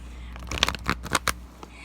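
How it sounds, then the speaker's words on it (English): Quick riffle-and-snap bursts of oracle cards being shuffled by hand, several sharp papery flicks in a short cluster close to the microphone, then fading to quiet. "I'm shuffling the cards the wrong way"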